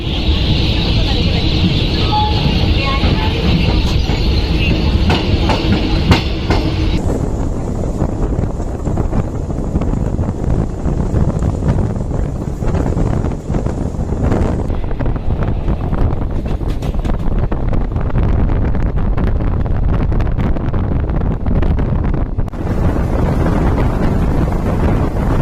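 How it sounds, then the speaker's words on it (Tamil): A Garib Rath express train running from Hazrat Nizamuddin toward Chennai Central makes a continuous low rumble, with heavy wind buffeting the microphone throughout. "ஸோ கைஸ் நம்ம ட்ரெயின் அப்படியே பொறுமையாக போயிட்டுருக்குங்க."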